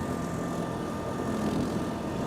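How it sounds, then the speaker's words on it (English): Iseki SRA950F ride-on brushcutter engine running in economy mode while cutting, a steady low droning hum that stays even and unstrained throughout, close and fairly loud with no talking. "you can kind of hear that it's barely making the engine go at all, and this is still in economy mode"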